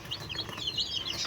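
A mother hen with ten newly hatched chicks, short soft clucks mixed with high thin peeping, close by and fairly quiet, with no talking.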